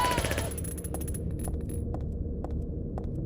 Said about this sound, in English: the actual sound of the gunfire is a little annoying